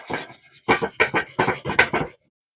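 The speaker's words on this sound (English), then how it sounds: "this sanded the rust off." Sandpaper scrubs rust off a part from a 1963 Schwinn Tiger Middleweight bicycle in about eight quick, close rasping strokes in a steady back-and-forth rhythm, then stops.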